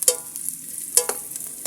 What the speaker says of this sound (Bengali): আমি পেঁয়াজটাকে সুন্দর করে ভেজে নিব।